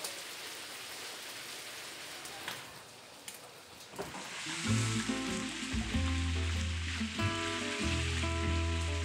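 Shengjian buns pan-fry in oil with water added, giving a steady, close, broadband sizzle throughout, while tonal, melody-like sounds join over the hiss about halfway through.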